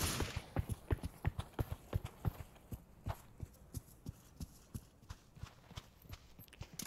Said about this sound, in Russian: Топот в доме.